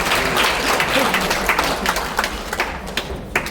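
Applause from a crowd at a memoir publication event in the National Assembly Museum, a full wash of clapping that slowly thins toward the end, with a few faint voices.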